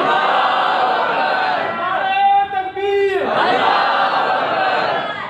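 Large gathering at a religious sermon shouting Allahu Akbar together in response to a takbir call, a loud massed chant with a clear sustained vocal swell in the middle, surrounded by crowd roar.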